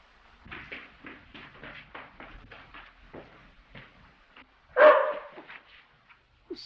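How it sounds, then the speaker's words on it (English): A dog gives a series of short, muffled barks and yips in quick succession, fairly faint and distant, with one louder bark near the end of the run. "Sylvester, dear, that was only Phyllis barking."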